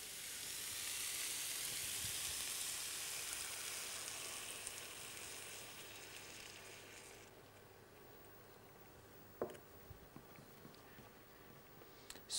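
Coconut milk pours over hake steaks cooking on a bed of onions in a hot pan, setting off a loud, steady frying sizzle that slowly fades and thins, followed by a few faint clicks and a sharp tap near the end.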